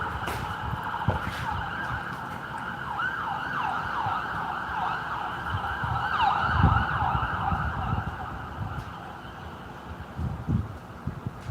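A wailing emergency siren sweeps up and down continuously at moderate distance, over low traffic rumble and passing vehicle noise.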